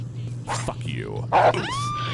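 A dog in the video game Postal 2 lets out a few sharp yelps and rising, whining whimpers, close and fairly loud over a steady low background hum.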